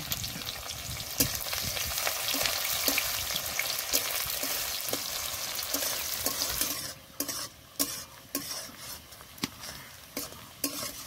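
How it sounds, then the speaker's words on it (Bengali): Crushed garlic and chopped onion fry in a pan with a steady close sizzle, punctuated by regular sharp spatula clicks against the metal. The frying quiets partway through, leaving distinct, spaced knocks and scrapes. "থেতো করা রসুন, কুচি করা পেঁয়াজ এবার ভালো করে ভেজে নেব।"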